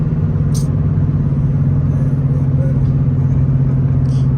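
A car's engine drones loud and steady from inside the cabin with the accelerator floored, a dense low hum with a few faint clicks but no clear gear change heard.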